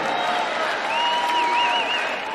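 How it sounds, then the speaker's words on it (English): Crowd at a Donald Trump rally cheering and applauding steadily, a broad wash of clapping and shouts holding at a constant level throughout, with faint whistles rising above it. "Let's see what happens, Trump said to a cheering crowd."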